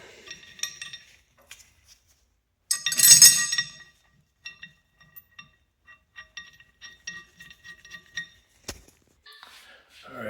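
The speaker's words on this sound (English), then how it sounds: "So they get threaded into the axle flange like so." Metal wheel studs are threaded into a Ford 9-inch axle flange on a Strange 31-spline axle. One louder metallic clatter is followed by a scattered series of light, close clinks and taps.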